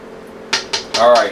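A spoon stirring gumbo ingredients in a cooking pot, several sharp metallic clanks and scrapes close by in quick succession, ending in a ringing scrape.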